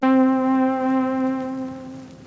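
A single sustained synth-like one-shot note with rich overtones slowly fades, with a faint grainy hiss from the RC20 plugin underneath.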